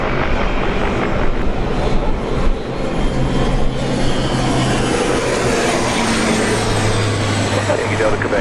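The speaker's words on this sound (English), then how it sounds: "747 arrival" A Boeing 747 arriving at Sydney International Airport on runway 16 right gives a broad, steady engine roar heard at a distance, with a low hum running underneath, plus wind and faint voices around it.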